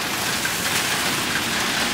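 Rain falling steadily outdoors on a rainy day, a dense, even hiss of drops on surfaces, loud and unbroken with no talking.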